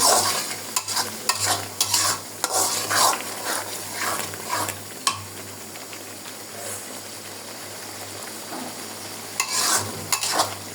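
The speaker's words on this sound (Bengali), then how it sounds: "অফ ক্যামেরাতে আমি মুরগিগুলো ভেজে নিচ্ছি" Chicken sizzles and hisses in a hot pan while a utensil scrapes and stirs in irregular bursts, with a steady low hum underneath.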